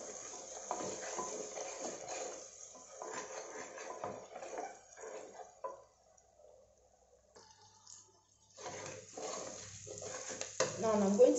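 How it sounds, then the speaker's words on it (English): Porridge beans with crayfish stirred in a pot, soft scraping and gentle clinks of a spoon, close and quiet, with a short pause midway and a louder burst of stirring near the end. "Stir this up."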